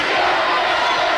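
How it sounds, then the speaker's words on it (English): A crowd at a girls' basketball quarterfinal roars and cheers in a dense, sustained wall of voices, loud and unbroken throughout. "Can you hear the roar of the crowd every time Neelyville makes a big shot?"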